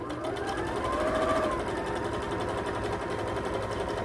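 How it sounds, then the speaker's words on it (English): A sewing machine runs steadily, stitching a quarter-inch seam along the long side of a fabric quilt triangle; a continuous, even mechanical whir with fast rhythmic needle ticking, close and alone. "we're going to put this in the machine and sew at 1/4 inch"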